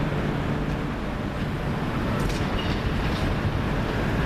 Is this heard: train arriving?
yes